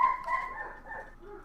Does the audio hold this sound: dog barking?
yes